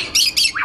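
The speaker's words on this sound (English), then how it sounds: "we decided to go to a parrot house, which, if you don't know, is a house full of parrots" A parrot gives two sharp, raspy squawks in quick succession, close by, followed by a shorter rising call, inside a parrot house.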